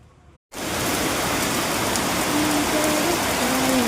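Steady rain falls nearby after a brief quiet moment, a dense, even hiss of drops on surfaces that continues without pause.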